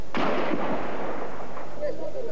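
A sharp burst of gunfire cracks out during 1989 street fighting in Romania, followed by a rumbling echoing tail that fades over a couple of seconds.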